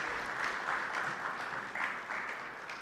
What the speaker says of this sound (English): Let us give Lieutenant General Nsambya a big, big round of applause.